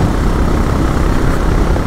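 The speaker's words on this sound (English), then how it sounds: "Throttle is open completely and the bike is just ambling along." Honda CB 350RS motorcycle engine at full throttle in fifth gear, with a steady loud broadband roar mixed with heavy wind rush and no break.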